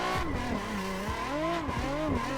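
A Nissan drifting on a karting track in Assetto Corsa, with a droning engine that rises and falls and sustained tire squeal, loud and continuous without talk.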